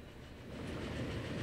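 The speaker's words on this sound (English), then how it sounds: "So let's take a ride with this train all the way to Oslo." A train in the transport simulation game Transport Fever 2 rolls along the tracks with a steady, dense rumble and rattling wheel noise that swells slightly louder as it runs, with no voices.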